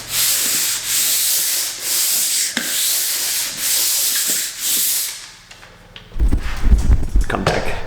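A pole sander scrapes across a venetian plaster wall in a home theater room in steady, rhythmic strokes, close and continuous, before giving way to louder rumbling handling noise at the end.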